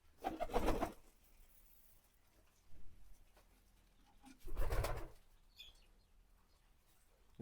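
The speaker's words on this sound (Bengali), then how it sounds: "আর দেখেন খাবারের জন্য কবুতরগুলো কীরকম করতেছে" Pigeons crowd around food in their coop, squabbling, and give off two short bursts of cooing and fluttering, separated by quiet, at a faint, close distance.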